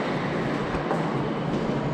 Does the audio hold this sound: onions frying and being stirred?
no